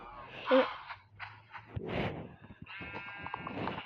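A few short sheep bleats sound in a quiet One Block game scene, with soft breathy noises around them and no speech.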